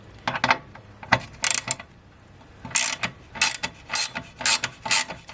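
Ratchet clicking in quick bursts as Torx bolts are loosened from a belt tensioner cover during a serpentine belt tensioner and idler pulley job, close and loud with short pauses between strokes.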